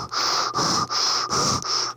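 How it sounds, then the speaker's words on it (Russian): Five steady, airy breaths drawn through a fine fuel filter from a Suzuki DF30 four-stroke injected outboard engine, close and loud, evenly spaced with short pauses and a hissy rasp, with no talking. "Ну, и попробую подышать."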